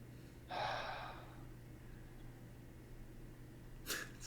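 A man nearby takes one loud, rough breath, followed a few seconds later by a second short, sharp exhale over a faint steady hum.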